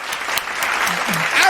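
Short burst of applause from a small group, fairly close and continuous, with a voice talking over it.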